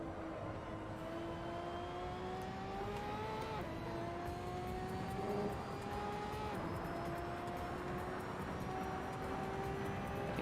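A big V12 or heavily tuned V8/V10 race car engine in the Assetto Corsa racing game, its steady rising whine pitching up through the gears with quick drops at each shift, loud and continuous.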